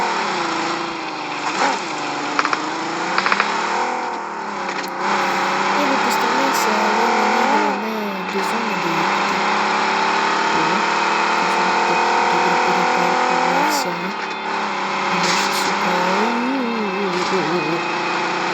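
A car engine drones loudly and continuously in PUBG on the Erangel map, revving up and down with shifting pitch as it drives, while a player talks over it.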